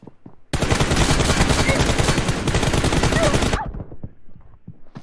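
Rapid automatic gunfire in a 1v1 team deathmatch video game, a dense, loud unbroken burst lasting about three seconds, then quieter scattered shots and game sounds.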